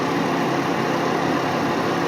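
A Ford Mustang engine idles with the air conditioning running, a steady loud low hum and rumble that holds even throughout with no change in revs, close to the microphone and without talk.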